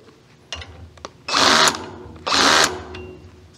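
A cordless drill's clutch slips at a low torque setting, giving two short bursts of rapid ratcheting clicks about a second apart, each about half a second long, with light handling knocks around them.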